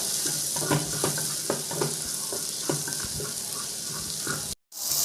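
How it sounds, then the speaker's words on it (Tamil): One large onion sautés in oil for an okra tamarind kuzhambu, a dense, close sizzle broken by repeated stirring clatters, ending in a brief sudden silence. "இதை எண்ணெயில் போட்டு நல்லா வதக்கிடலாங்க."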